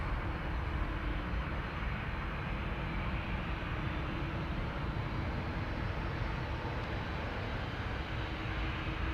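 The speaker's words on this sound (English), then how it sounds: "On the mic you could probably hear the engines of the A330 already" Jet engines of a Delta Airbus A330-300 at Amsterdam Schiphol Airport, a steady distant low rumble and hum that holds evenly throughout with no voices.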